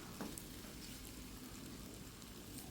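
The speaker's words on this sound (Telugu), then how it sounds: "బంగాళదుంప ముక్కలు కొద్దిగా ఉడుకుతున్నాయి చక్కగా, అంటే మగ్గిపోతున్నాయి అన్నమాట, నూనెలో మగ్గుతున్నాయి" Potato pieces cooking in oil in a pan, a very faint, steady soft sizzle with gentle crackling, continuous and low-level with no voices.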